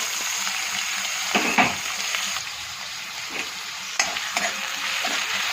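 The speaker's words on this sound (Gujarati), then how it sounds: "હવે રાઈ અને જીરું નાખી દઈએ અંદર, મીઠી લીમડી, લીલા મરચાં, ઝીણી સમારેલી ડુંગળી" Mustard seeds, cumin, curry leaves, green chillies and finely chopped onion frying in hot oil, a bright steady sizzle punctuated by a few short stirring scrapes and spatters.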